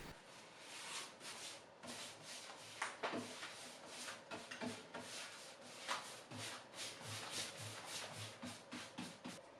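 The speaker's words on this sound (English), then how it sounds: "I come back in the morning with a 600 grit sanding sponge" A 600 grit sanding sponge worked by hand over a first brushed coat of white paint on a vintage wooden cabinet, giving steady, close, rhythmic back-and-forth scratchy strokes for the whole stretch, with no talking.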